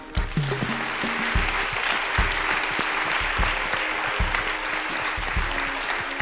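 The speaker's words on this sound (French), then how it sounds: "Donc on va les remercier en les applaudissant." An audience at a theatre's season presentation claps steadily, a full sustained round of applause with a few low thumps under it.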